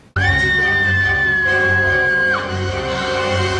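A loud, sustained scream from the High School Musical film, one long high wavering note of about two seconds that drops off at the end, with music continuing underneath.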